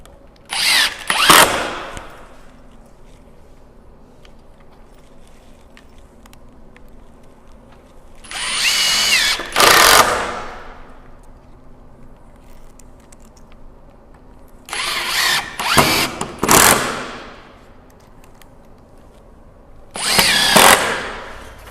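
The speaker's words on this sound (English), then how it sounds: "Then I'm going to grab some screws again, secure the 2 ends first." A power drill drives screws into wooden 2x4 rails in four loud bursts, each a pair of whirring runs separated by quiet gaps, with no talking.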